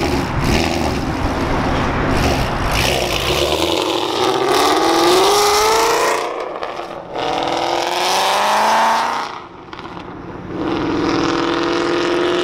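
An S550 car pulls away with a loud engine that revs through rising sweeps and gear changes, with brief dips in loudness between pulls, heard close and without talk.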